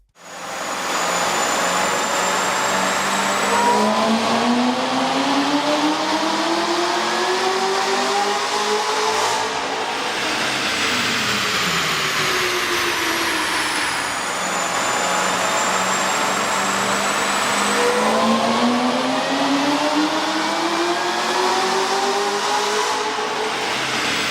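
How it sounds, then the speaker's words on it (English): A loud, nearby Chevy Corvette ZR-1 6.2L engine fitted with a K&N air intake revs on a dyno in long sweeps, its pitch climbing and falling repeatedly in a continuous roar. "we ran the vehicle on the dyno to test the sound comparison versus the stock intake"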